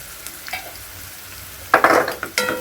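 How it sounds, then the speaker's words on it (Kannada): Potato curry with turmeric sautés in a pan, with a soft steady sizzle and a few sharp spoon scrapes and clacks bunched near the end, close and loud. "ಚೆನ್ನಾಗಿ ಸ್ವಲ್ಪ ಫ್ರೈ ಆಗೋ ಗಂಟ ಬಾಡಿಸ್ಕೋಬೇಕು"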